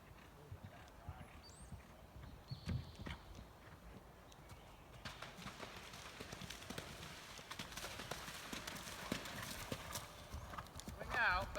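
Horse hooves during a cross country riding lesson, a rhythmic clip-clop of galloping strides on turf, fairly distant and faint at first and growing nearer and louder, with a snort and people talking in the background.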